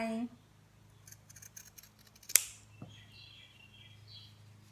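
Scissors snip once, sharp and close, trimming excess fabric from sewn bias binding, with a faint rustle of cloth before and after in a quiet room.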